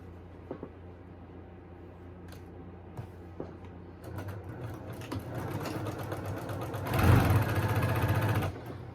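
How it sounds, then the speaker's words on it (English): Sewing machine back tacking quilt seams: a close mechanical whir that starts softly with a few clicks, then runs louder and faster, rising to a brief full-speed burst before easing off. "I am back tacking on these seams because I can."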